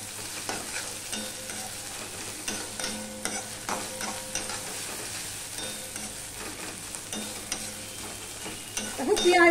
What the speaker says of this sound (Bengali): আদাটাকেও আমি ভালো করে পেঁয়াজের সাথে কষিয়ে নেব।